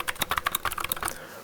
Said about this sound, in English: I'm using blue switches because I love the clicking when I type.